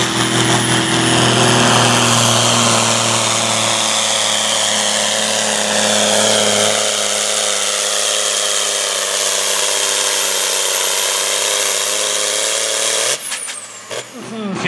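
Fiat 1580 tractor at the start area of a tractor pull in Ørum, a loud sustained diesel engine roar with a steady high whine, ending in a rattling surge, with an announcer speaking over it.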